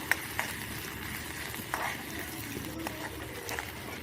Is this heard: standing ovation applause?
no